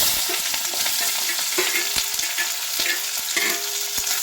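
Finely chopped onion fries in a pan with a loud, close, continuous sizzle broken by repeated spatula scrapes and knocks against the pan, with no talking.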